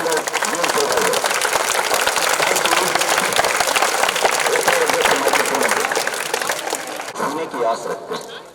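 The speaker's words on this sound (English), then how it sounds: "So please do a huge round of applause for all the teachers" A school audience claps loudly and steadily for teachers at a 10th-standard exam results celebration, a dense roomful of hands sustained for about seven seconds before thinning out as it fades.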